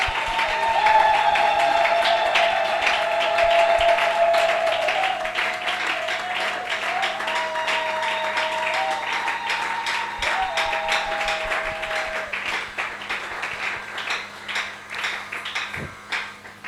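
A church congregation at a Sunday service applauding to acclaim the Lord, sustained dense clapping from many hands with a tonal background, loud at first and gradually thinning out.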